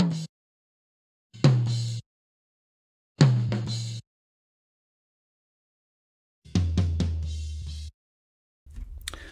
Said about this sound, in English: now we've done all that, the toms will sound a bit like this.